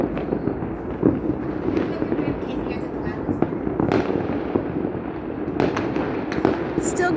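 New Year's Eve fireworks over Tirana crack and pop continuously at a distance, with sharper nearer bangs scattered through, while people talk and cheer over the barrage.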